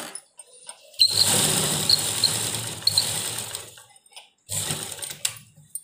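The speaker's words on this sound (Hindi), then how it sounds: "वहीं तक हमने इसको डबल सिलाई देनी है" Sewing machine double-stitching a blouse sleeve, running in a steady, close whirring burst of about three seconds, then pausing before a second shorter run.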